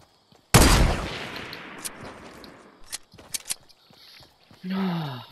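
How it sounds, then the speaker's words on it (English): Video game gunfire: one loud blast with a long decaying tail, then scattered sharper shots and impacts at mid distance, with a voice speaking briefly at the end. "he's shooting at me"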